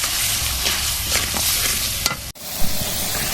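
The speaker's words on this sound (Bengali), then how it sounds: "হলুদের গুঁড়া, মরিচের গুঁড়া, এই মশলাটা ভালো করে কষিয়ে নেব।" Turmeric and chili powder masala frying for jackfruit curry, a loud close sizzle with spatula scrapes, a brief cut near the middle, then more stirring and hiss.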